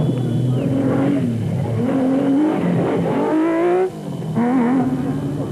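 A Nissan V6 engine in a Nissan Hardbody super truck revs hard at peak RPM at the start of an off-road race, a loud, close, sustained roar with rising pitch sweeps and a brief dip around a gear change.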